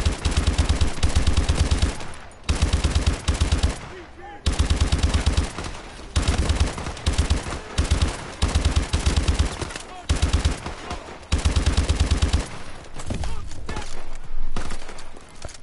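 Light machine gun in the video game Call of Duty: Advanced Warfare firing long, loud sustained bursts, broken by short pauses, close and dominating the mix with no talk over it.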